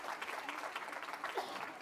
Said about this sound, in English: Can we give Dr. Terry a round of applause?